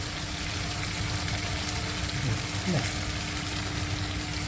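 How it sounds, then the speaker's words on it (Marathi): Tomatoes and vegetables sauté in a pan for a Ghevda bhaji, a quiet steady sizzle with faint stirring, under a soft voice. "टॉमॅटोसुद्धा परतवून घेते आहे"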